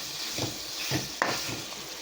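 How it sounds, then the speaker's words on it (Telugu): Marinated chicken fries in a pan with a steady close sizzle, broken by a few soft stirring scrapes and one brief sharp clink. "ఇప్పుడు మ్యారినేట్ చేసి పెట్టుకున్న చికెన్ వేసుకోవాలండి ఇది కూడా ఒక ఐదు నిమిషాలు ఫ్రై చేయాలి"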